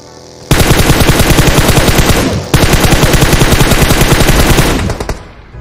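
Automatic gunfire from a shooter video game scrim match rattles out in two long, loud, rapid bursts, broken by a brief gap before fading away.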